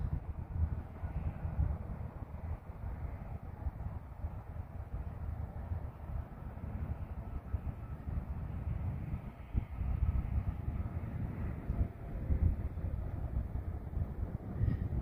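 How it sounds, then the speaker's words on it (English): A Union Pacific train approaches from far off near Panama Road outside Gordon, Texas, heard as a faint, steady low rumble that holds without clear peaks, with no one speaking. "there's the train way off in the distance there"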